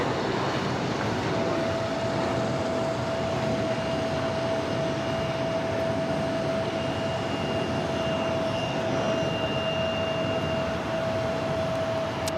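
A Delta Connection CRJ 900 regional jet taking off at JFK airport, a loud continuous engine roar with a steady whine running through it, sustained at close range with no voices.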